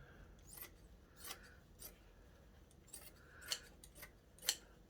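Scissors snip through embroidered sinamay hat fabric in a series of short, quiet cuts spaced irregularly, with the last two crisper and louder than the rest.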